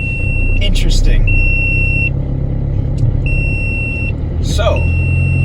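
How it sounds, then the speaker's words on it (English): A car's warning buzzer, sounding at startup because of a snapped-off wire, beeps in a steady repeating pattern of even tones. It rings over a low engine rumble, with bursts of nearby noise between the beeps. "I snapped off the wire, so it beeps every time I start up"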